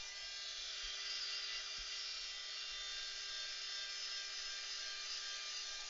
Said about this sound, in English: I'm going to go over it with the air dryer just to make sure it's completely dry.